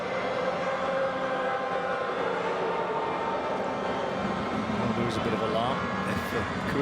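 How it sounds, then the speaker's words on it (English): Faint sirens wail in the distance beneath a loud, steady football crowd roar at a DPR Korea versus China match, with a commentator talking over the noise. "There are sirens in the background"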